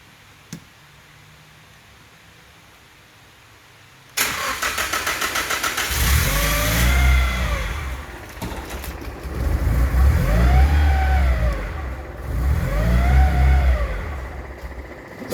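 An SR20DET engine swapped into a Datsun 510 cranks and catches after a quiet stretch, then settles into a loud rough idle broken by three rising revs, close up, with a brief click at the start.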